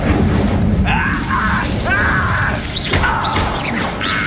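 Incendio fire spell in the video game Hogwarts Legacy, a loud whooshing blast followed by several rising whistling swooshes and crackling magical bursts in close succession.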